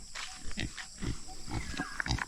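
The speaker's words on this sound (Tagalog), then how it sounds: "Papakain muna tayo ng baboy." Pigs grunting and squealing at feeding time on a small backyard farm, a run of short, close, rough snorts and squeals repeating every half second or so over low shuffling noise.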